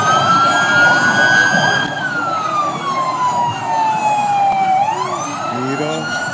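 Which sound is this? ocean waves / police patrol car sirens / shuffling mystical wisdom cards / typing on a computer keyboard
police patrol car sirens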